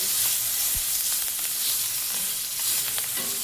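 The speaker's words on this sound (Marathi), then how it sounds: "मिरची तळायची हा तर ह्या मस्त मिरची अगदी तळून घ्यायची" Green chillies (lavangi variety) fry in hot oil with a steady, dense sizzle throughout, a few soft clinks of a utensil punctuating the bubbling crackle.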